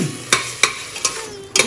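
Food is stirred and fried in gingery oil, a low sizzle running beneath four sharp scraping strokes of a utensil against the pan, spaced roughly a third of a second apart, close and fairly loud.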